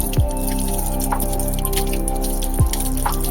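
Palm fruit is washed by hand in water, giving soft drips, sloshes and squishy handling sounds up close, with a couple of low thumps.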